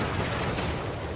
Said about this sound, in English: I'm gonna just shoot on myself and get it over with, I think.